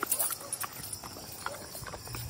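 Horses clip-clop at a nature camp resort in Magdalena, Laguna, making a steady series of hoof taps against a busy outdoor background, moderately near.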